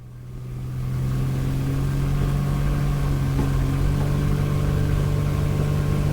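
Small aircraft piston engine throttling up for takeoff, a steady droning hum that swells over the first second and then holds loud and even, with no talk.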